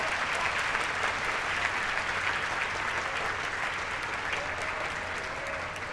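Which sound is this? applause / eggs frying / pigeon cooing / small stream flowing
applause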